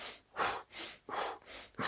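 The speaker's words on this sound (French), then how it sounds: "Vous allez pomper comme ceci, donc pendant une trentaine de fois, pour faire monter, faire une hyperventilation." Deep, forceful hyperventilation breathing in the Wim Hof method, with three loud rhythmic breath cycles in quick succession, each a rushing inhale-exhale close to the microphone, with no talking.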